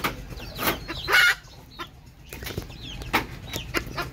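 Domestic hens cluck loudly after laying eggs in a backyard coop, with repeated sharp squawking calls and some wing flapping in bursts, fairly close and without talk.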